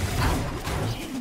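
A gun is reloaded in Valorant, a short, close mechanical clatter of handling and clicking that lasts about a second.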